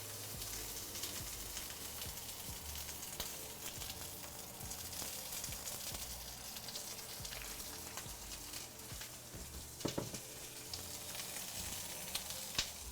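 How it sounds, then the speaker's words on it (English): Moussaka ingredients sizzling sharply in oil in a frying pan, a continuous crackling hiss with occasional louder pops, close and moderately quiet, with no speech. "when you hear that sharp kind of sizzle, that means you need a little bit more fat again."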